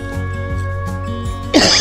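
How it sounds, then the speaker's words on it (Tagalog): A person at a sugarcane planting site lets out a short, loud cough near the end, following a stretch of steady background hum. "Umubo na tayo ah."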